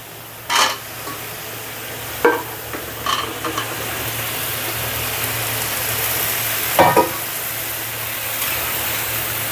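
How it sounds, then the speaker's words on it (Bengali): Ridge gourd, okra and potato frying in a pan for a thin curry with baim and tengra fish give a steady sizzle, broken by a few scattered scraping stirs from a utensil. "এবার নেড়ে চেড়ে নিতে হবে"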